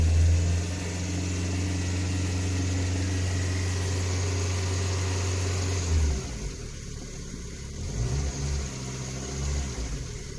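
Engine of a Lada Kalina 2 running warm under load in drive with the handbrake on, a steady mid-pitched hum that drops and shifts midway; any hydraulic lifter knocking is not clearly separable from the drone.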